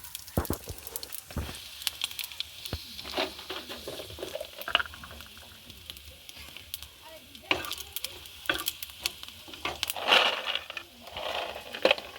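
Dried red chilies and whole coriander seeds sizzle and crackle in a little white oil as they are stirred in a pan, with steady frying hiss and scattered pops and scrapes.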